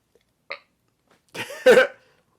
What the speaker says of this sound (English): I'm going to show you my face while I burp.